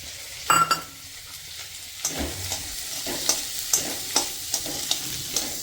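Diced onions, ginger-garlic paste, garlic cloves and slit chillies frying in a pan: a steady close sizzle broken by repeated stirring scrapes and knocks, with a sharp burst as the ingredients go in.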